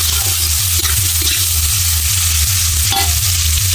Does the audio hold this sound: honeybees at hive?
no